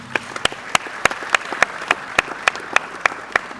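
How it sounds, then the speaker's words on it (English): Sparse, distinct hand claps spread across a small audience at an awards ceremony for herbal medicine, roughly a dozen sharp slaps in an uneven rhythm, fairly near and moderately loud with no talking. "they need an applause"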